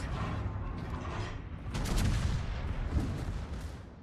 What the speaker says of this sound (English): Ladies and gentlemen, the obligatory exploding Nuremberg.